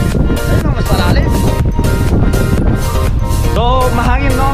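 Strong wind roars across a microphone on the Taiping Suspension Bridge in Chiayi, Taiwan, a loud, constant buffeting rush with people talking underneath.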